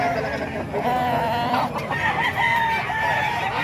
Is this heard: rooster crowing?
yes